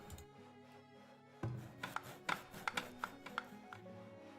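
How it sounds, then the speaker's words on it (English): Axe chops on trees from the Farthest Frontier game sound as a series of quiet, sharp knocks, roughly evenly spaced, over a soft background. "You're chopping down trees"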